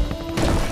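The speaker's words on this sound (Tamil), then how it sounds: "நான் எண்ணியதை போல் பாதையில் உள்ள தடை சுக்குநூறாக நொறுங்கி போனது." A rolled boulder smashes through a path obstacle in the video game Unsung Empires The Chola, a short, loud crashing burst with a heavy low thud that swells midway and rumbles on briefly.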